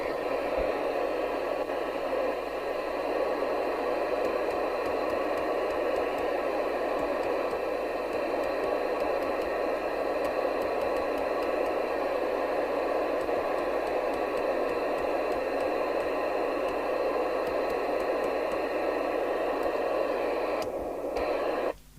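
Steady hissing radio static fills the whole stretch, continuous and fairly loud with a faint hum beneath, cutting off abruptly at the end.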